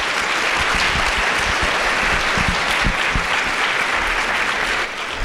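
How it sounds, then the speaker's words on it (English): Sustained audience applause fills a large conference hall at the closing plenary, loud and steady throughout, dense clapping with no voices, fading slightly at the very end. "One more round of applause."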